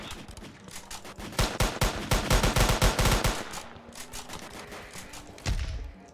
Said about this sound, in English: I literally had to shoot two people.